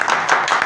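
Brief burst of audience clapping for performers on a talk show, close and fairly loud, a dense patter of hands over less than a second.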